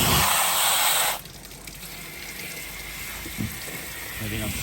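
Water from a hose gushes hard and loud while flushing out a Vax Dual Power Pet Advance ECR2VP1 carpet washer, then drops after about a second to a softer, steady running flow, with a brief voice near the end.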